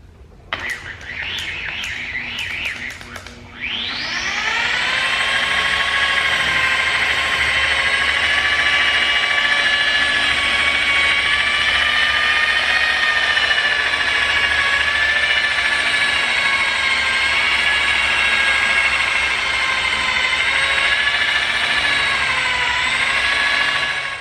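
A car paint buffer polisher running at about 2,000 RPM while cutting and buffing paint, a steady loud whine that spins up after a few faint knocks and holds for about twenty seconds.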